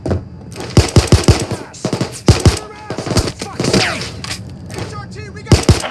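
Rapid bursts of gunfire from the video game Payday 2, loud and irregular, mixed with shouted voices talking over the shots.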